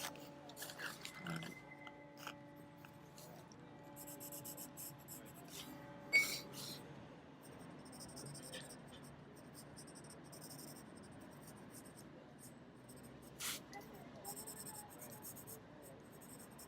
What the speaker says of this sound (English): Kind of draw something in one position, then I kind of draw over the top of it